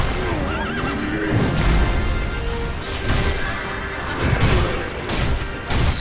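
A horse neighs loudly in the video game Sekiro: Shadows Die Twice, its whinnies mixed with hoof clatter and crashing impacts from combat, continuous and busy throughout.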